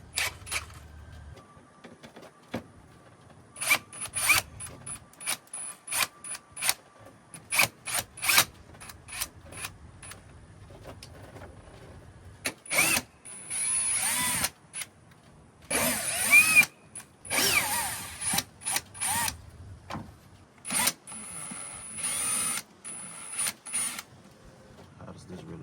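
A power drill run on a low setting backs out hose clamps on a Dodge Hellcat intake, with short bursts of whirring and clicking that repeat in close quick succession, some longer runs, and occasional brief talk between them.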